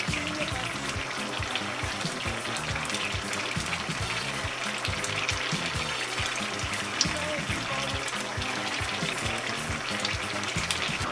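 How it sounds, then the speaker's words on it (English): Palm oil hits a hot pot and fries with a loud, steady sizzle and crackle, close and continuous, with faint stirring and trickling throughout and no voices. "It's now time to add our palm oil."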